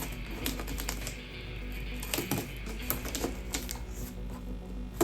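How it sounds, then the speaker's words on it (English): Scissors struggle through cardboard in a series of crisp snips and crunchy clicks, with an irregular rhythm and close, steady volume. "me absolutely struggling to use a pair of scissors on some cardboard"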